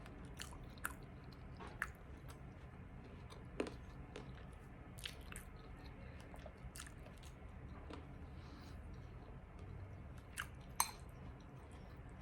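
Quinoa breakfast bowl with apples, nuts and cinnamon being chewed up close, soft wet squishy mouth sounds with a few sharper crunchy bites scattered across a quiet background.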